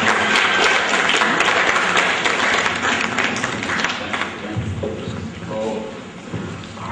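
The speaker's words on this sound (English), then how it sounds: "Give them a big round of applause." Dense, loud audience applause fills a stage ceremony as dignitaries are welcomed on stage, holding steady throughout before easing slightly toward the end.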